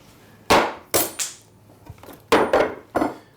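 Workpiece being shifted off a workbench in a drill press workshop: a close series of sharp wooden knocks and clunks with brief scraping, irregularly spaced and fairly loud, no speech.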